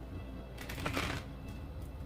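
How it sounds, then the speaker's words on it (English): Shaman Oracle cards being shuffled by hand: quiet, close, papery riffling in a few short bursts over about two seconds. "So I'm going to pull a Shaman Oracle card while I'm shuffling."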